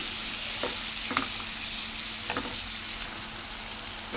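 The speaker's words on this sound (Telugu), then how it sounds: "ఇందులో మనము టమాటా ముక్కలు అనేది వేసేసుకుందాం." Tomato pieces go into a pan of well-softened vegetables frying in oil, with a steady, close sizzle and a few soft stirring clicks, no voices.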